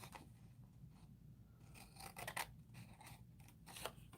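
Scissors snipping around a small flower shape cut from paper, a series of quiet, close snips and rustles with a soft background hum, no talking.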